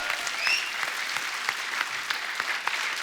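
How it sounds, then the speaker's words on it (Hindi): Steady applause from an audience, many hands clapping at once with a dense, crackling texture, fairly loud and continuous. "एक बात के लिए और तालियां बनती है"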